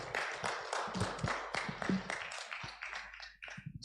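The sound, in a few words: audience applause at a forum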